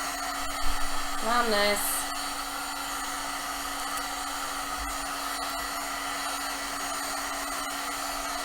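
A heat tool warms Worbla for a cosplay breastplate, blowing a constant loud airy whoosh over a steady hum, while a voice speaks briefly near the start.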